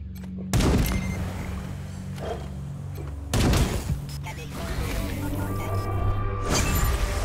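Gunfire in a video game, two loud sharp shots several seconds apart over a low rumbling background, with a voice talking throughout.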